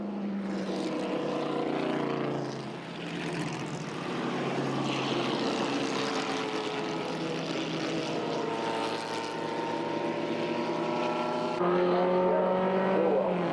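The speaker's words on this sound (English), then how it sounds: "the safety car comes onto the circuit." A safety car engine drones steadily at a moderate distance on a race circuit, its pitch rising and shifting as it passes, with no voices.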